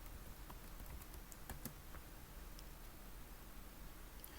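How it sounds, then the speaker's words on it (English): Quiet, steady typing on a computer keyboard while entering commands in a Linux terminal, with soft scattered key clicks over a faint hiss and no talking. "We do that by typing in the following on the command line"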